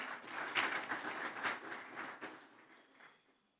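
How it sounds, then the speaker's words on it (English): Applause rises in a parliament chamber for visiting students, a moderate, uneven patter of hands that peaks early and fades out gradually to quiet. "You can have a round of applause for the Triple C students"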